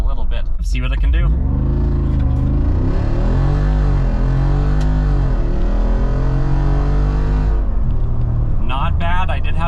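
A 2024 Jeep Wrangler Rubicon 392 V8 with its performance exhaust valves open accelerates hard from 0 to 60, its deep exhaust roar climbing through rising gear pulls with shift dips, loud and close from inside.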